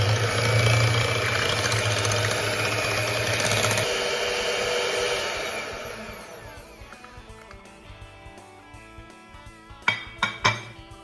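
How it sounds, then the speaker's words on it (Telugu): An electric hand beater whipping an ice cream mixture in a bowl, a loud steady motor whine for several seconds that then stops, followed by a few clinks of the beaters against the bowl. "నేను ఇప్పుడు బీటర్ తోటి బీట్ చేస్తున్నాను"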